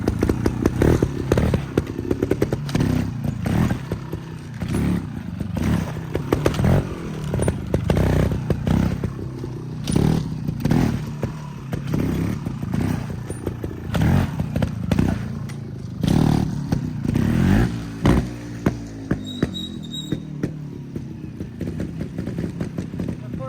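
A motorcycle engine revs loudly and continuously while the rider pops the clutch to make the bike hop, with repeated thumps, clatter and scraping over the rough engine roar.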